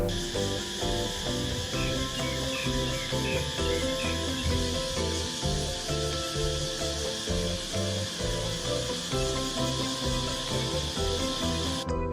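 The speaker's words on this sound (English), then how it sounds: "listen to natural sounds of birds mixed with cicada buzzing" Continuous droning cicada buzz, steady and fairly faint, with a hissing high layer and scattered chirps like distant birds, no voices, in southern Thailand.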